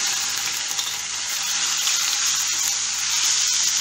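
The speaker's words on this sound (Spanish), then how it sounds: "Y voy a comenzar a freír." Chicken breast frying in hot oil in a pan on a stove, a steady, close, even sizzle with no talking.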